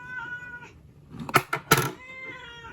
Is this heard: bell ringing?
no